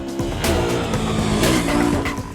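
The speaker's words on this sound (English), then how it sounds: "The engine doesn't sound great at low revs, but at full chat, it sounds genuinely good." A Bajaj Pulsar RS200 motorcycle engine screams hard at high revs, its pitch climbing and dipping in quick surges, loud and close, with no voices.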